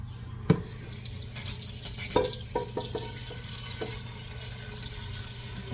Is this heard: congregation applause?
no